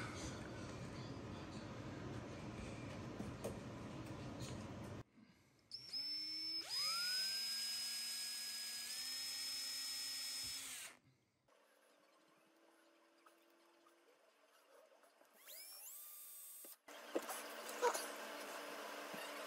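A high-pitched drill whines in steady bursts that rise and hold, with pauses of quiet between runs, close and loud.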